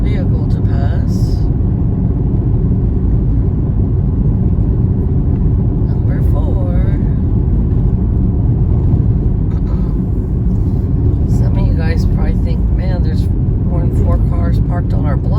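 A car passes along a residential street, its steady rumble loud and close throughout, with faint birdsong and a voice talking over the traffic noise.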